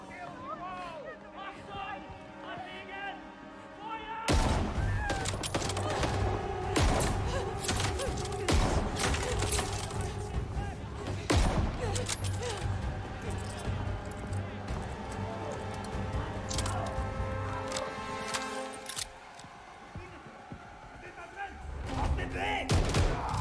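Rapid gunfire and thudding impacts from a first-person shooter game trailer, a shotgun among the weapons, dense and continuous over music with someone talking at times.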